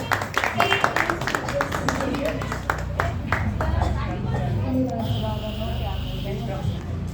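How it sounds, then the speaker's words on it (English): Audience clapping at a school farewell party, a steady roomful of applause with crowd chatter running underneath for the whole stretch. "Please special clapping for Ayush Bhaiya."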